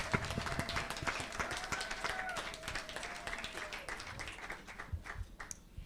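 Crowd applauding for Graça Machel at a youth event in Nairobi, scattered clapping that is fairly faint and distant, with a high tone partway through.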